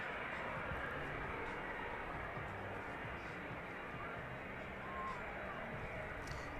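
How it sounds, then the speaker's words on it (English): A DHL Boeing 767 arriving from JFK at East Midlands Airport makes a steady, broad jet roar that stays fairly distant and even throughout. "So that next arrival almost upon us. DHL 767 service in from JFK."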